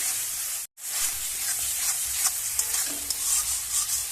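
Carrots and peas fry in a spiced masala in a pan, giving a steady sizzle and stirring scrapes that stop in one short break before continuing.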